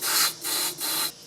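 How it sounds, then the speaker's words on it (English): Fogging oil sprayed from an aerosol can into the spark plug hole of a small engine: three close, steady hissing bursts, each about a third of a second, with short gaps between, alone. "I'm going to spray some fogging oil in there"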